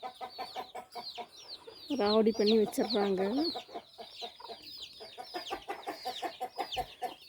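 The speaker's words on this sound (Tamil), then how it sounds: "இந்த கோழி விட மாட்டேங்குதுங்க எல்லாத்தையும் போட்டு கீழே தள்ளி விட்டு" A chicken clucks repeatedly at close range, making loud, excited calls, in a rain-soaked farmyard where it is knocking things over. People talk over and between the calls.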